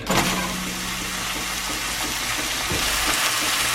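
Ground beef frying in a cast iron pan makes a steady, dense sizzle that runs unbroken at moderate loudness, with occasional faint knocks.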